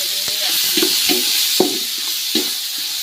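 Tomatoes sauté with ginger garlic paste in a pan for a chicken dish, making a loud, continuous sizzle. Four or five soft stirring scrapes fall at intervals, and no voice is heard.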